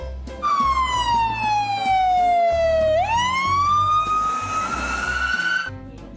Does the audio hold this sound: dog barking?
no